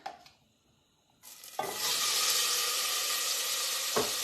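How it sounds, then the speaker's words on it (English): Onions and carrots go into a hot pan for pasta with lentils. After a few quiet clatters, a loud, close sizzle bursts out and holds steady to the end. "now we're going to saute our onions and carrots"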